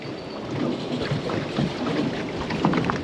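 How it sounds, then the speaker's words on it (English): A tour boat off Bocas del Toro, Panama, pulls away with a steady engine drone mixed with wind buffeting and water rush, loud and continuous with no voices. "He starts the engine and off we go."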